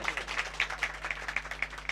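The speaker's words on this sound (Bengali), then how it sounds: "তার উদ্দেশ্যে একটু সবাই হাততালি দেবেন।" Audience at a Gajan festival inauguration clapping for an honoured guest, a thin scattering of handclaps, fairly faint and distant, over a steady low hum.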